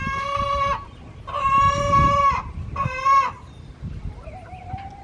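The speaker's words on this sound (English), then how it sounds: "here on the chicken coop, and then back up and open that door, and the birds will go right in and out." Chickens at a homestead coop give three drawn-out, tonal calls in a row, fairly close and clear, with a faint softer call trailing at the end and no talking.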